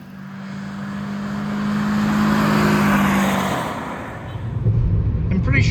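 A 2006 Scion xB with 262,000 miles driving along, a steady engine and road drone that swells and eases, with tire and wind noise building toward the end.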